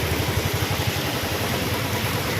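A faulty motorcycle idles on the mountain road to Kedarnath, a steady close low engine rumble with no talk.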